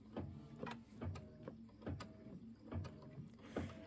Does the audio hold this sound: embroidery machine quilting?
yes